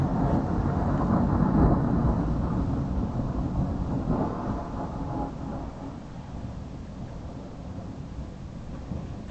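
A thunderstorm sounds as a long, dense rumble of distant thunder that rolls on and slowly fades, mixed with the hiss of rain and faint wind buffeting, and no voices.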